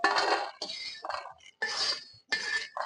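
Roasted coconut pieces transferred onto a plate in a kitchen while preparing fish curry: a few close clinks and scrapes of a utensil against dishware in short separate bursts, with no talking.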